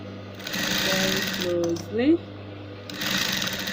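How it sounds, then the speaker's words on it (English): Sewing machine stitching Regelene boning onto a corset, running in short whirring bursts with pauses and speed changes, close and clear, under occasional quiet talk. "So I'm sewing right away, very closely,"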